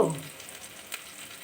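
Bitter gourd frying in hot oil in a home kitchen, a steady close sizzle with a brief louder burst at the start, then a soft crackling hiss continuing alone.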